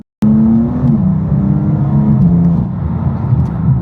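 A single-turbo BMW M3 (F80) engine revs up loudly in third gear right after an abrupt start, its pitch climbing steadily under strong rumbling, close and continuous.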